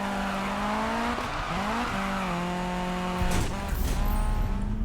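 A 900-horsepower Volvo 242 racing in Need For Speed 2015, its engine droning steadily with pitch rising through gears, then a rougher burst near the end as tires scrub and skid, loud and close without talk.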